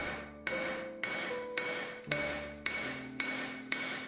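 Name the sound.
hammer forging a steel bar found at the beach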